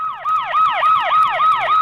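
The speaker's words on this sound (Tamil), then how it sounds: "பாத்தியா, சைலன்ஸா பேசுறதுக்கு சைரன் அலறுது பாரு" An emergency vehicle siren wailing loudly and close, rising and falling in a fast repeating cycle about every quarter second, alone without speech.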